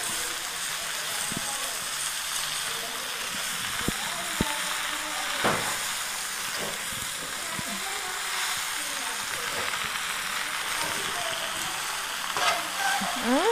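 Water spinach (kangkung) sizzles and fries in a hot wok, a dense hiss with stirring scrapes and clinks throughout, while a person talks quietly over it.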